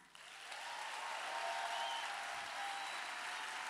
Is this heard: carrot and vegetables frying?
no